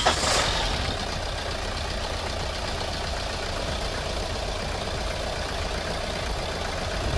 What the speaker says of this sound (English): Run the vehicle for approximately a minute.